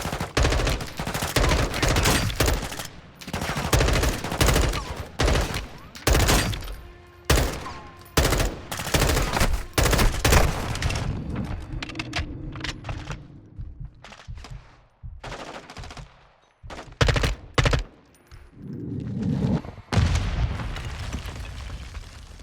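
Rapid bursts of automatic gunfire and explosions from a first-person shooter video game fill the scene, loud and dense at first, then thinning into scattered shots and booms with brief quiet gaps.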